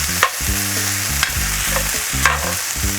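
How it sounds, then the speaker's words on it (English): Andouille sausage hash stirred in a cast iron pan, steady sizzling frying under repeated scraping strokes of the spoon against the iron, close and fairly loud with no talking. "We just want to give it a quick stir."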